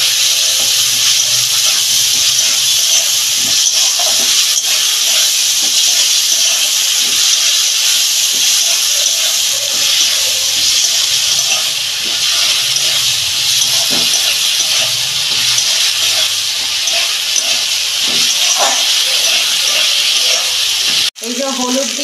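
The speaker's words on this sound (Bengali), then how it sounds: "আদা রসুনের পেস্ট দিচ্ছি, 3 চামচ দিচ্ছি। এটা দিয়ে আমি ভালো করে কষাবো।" Ginger garlic paste fries in hot oil in a pan for a fish-head cabbage curry, giving a loud, continuous hiss and sizzle that runs unbroken and close, with a soft clatter near the end.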